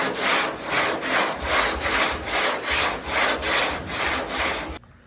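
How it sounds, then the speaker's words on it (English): Hand sanding 2K primer on a truck bed with a sanding block: about eleven even back-and-forth rasping strokes in a steady rhythm, close and loud, stopping abruptly at the end. "you get your block and you sand down"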